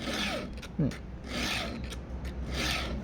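Rough rasping strokes of a metal file scraping across a hard chainsaw chain tooth, several slow back-and-forth passes, close and fairly quiet.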